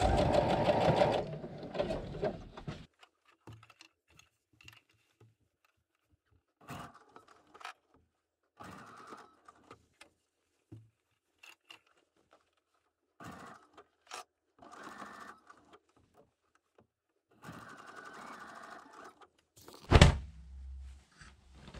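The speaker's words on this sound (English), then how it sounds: "We are ready to put it through the sewing machine already." Bursts of serger stitching start and stop repeatedly, a rapid mechanical whir gathering knit fabric into ruffles, with quiet pauses and occasional soft thumps between runs.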